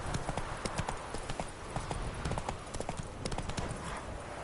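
Roach the horse galloping in The Witcher 3, fast rhythmic hoofbeats pounding steadily and close, with no speech.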